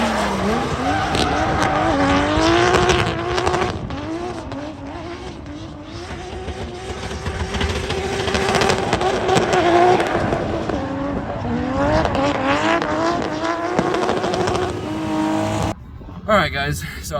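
A Toyota Chaser drifts hard on Falcon 275 FD tires, engine revving and rising and falling loudly while tires squeal continuously, all close and sustained, with a brief cutoff near the end.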